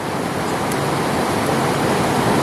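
A waterfall gives off a steady, dense broadband rush of falling water, loud and close, continuous with no pauses or voices.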